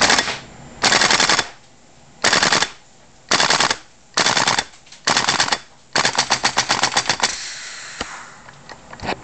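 A GHK AK-74M gas-powered airsoft rifle fires a string of loud, close bursts, with several sharp cracking volleys separated by short pauses and a rapid stuttering run near the end. No one speaks.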